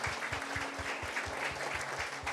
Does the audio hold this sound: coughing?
no